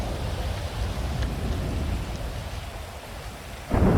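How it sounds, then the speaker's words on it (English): Thunderstorm weather in GTA 5: steady heavy rain hiss with low rumbling thunder throughout, and a louder crack of thunder breaking in near the end. "The game has pretty nice thunder patterns."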